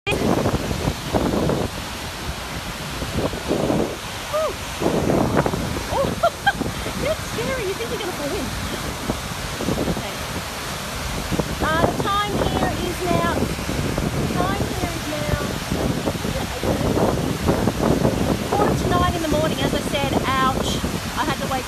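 The Goðafoss waterfall in Iceland gives a continuous, broadband roar, mixed with wind buffeting the microphone. People talk over it throughout.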